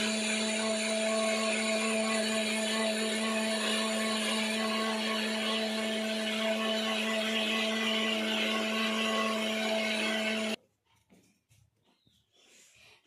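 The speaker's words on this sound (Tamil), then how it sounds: "அடுத்து மிக்ஸியில் அரைச்சிக்கணும், அரைச்சிட்டு காமிக்கிறேன்" A kitchen mixer grinder churns homemade ice cream made from spoiled milk, a loud, even motor whine with a strong steady hum that cuts off sharply near the end, after which a brief word is spoken.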